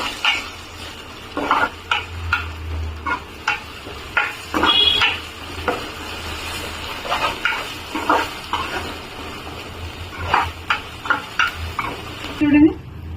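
Ginger garlic paste being stirred in a pan, with repeated scraping and clinking of a spoon against the metal at an irregular rhythm over a low sizzle, close by, while a person talks.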